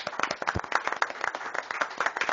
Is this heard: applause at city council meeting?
yes